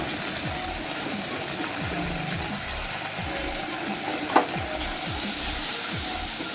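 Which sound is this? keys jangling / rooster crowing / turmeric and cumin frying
turmeric and cumin frying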